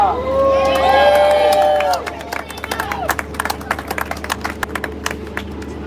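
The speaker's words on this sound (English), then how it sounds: "Please give me a round of applause for Katrina." A city hall crowd applauds and cheers for a Navy veteran named Katrina: loud whoops and cheering voices give way to sharp, scattered clapping close by.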